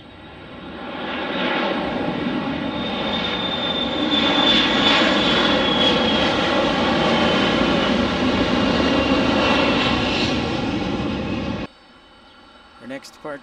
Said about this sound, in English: Departure looks like Delta 2022 on another 717 coming into your picture right there.